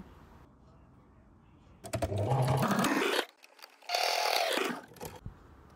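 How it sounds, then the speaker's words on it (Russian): A sewing machine runs two bursts of stitching along a seam 1 cm from the edge of a layered cuff with elastic, each burst whirring up to a steady hum before stopping, close and fairly loud with no talk. "теперь нам нужно проложить строчку на расстоянии 1 см от края"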